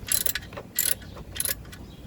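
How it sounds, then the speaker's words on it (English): A ratchet tightens the oil drain plug on an Acura RDX with three short bursts of quick clicking, close and fairly quiet over low background rumble. "I am not going to try to over tighten this and damage the oil pan."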